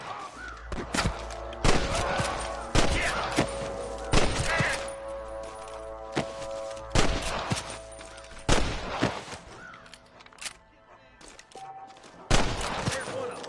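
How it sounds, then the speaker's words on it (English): Bursts of gunfire in a Red Dead Redemption shootout, repeated sharp shots and volleys at irregular intervals over a quiet tonal game background, some loud and close, others more distant. "I can hear more gunshots."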